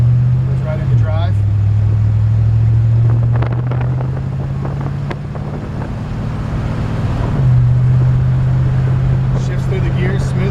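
A 1946 Ford half-ton truck engine drones steadily and up close, its low hum dropping and rising in pitch as the transmission shifts through the gears, with wind noise around it.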